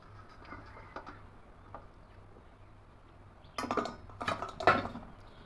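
Drained flattened rice (chira) is tipped onto a plate, a sudden rustling, pattering spill in two short bursts after a few quiet light clinks.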